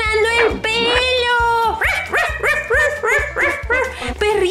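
A puppy barks and whimpers in rapid yips, a long whining cry followed by a string of short, close, loud barks in a playful indoor scene.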